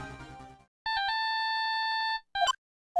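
A phone rings in the Ace Attorney video game as a steady electronic ringtone, a single sustained burst of bright repeating tones, followed by short chirpy game blips, with a faint murmur of synthesized music beforehand.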